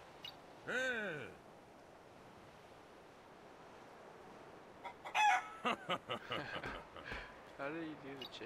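In the Ark video game, a chicken emote plays a single short rooster crow near the start, followed by several people chatting over faint background ambience.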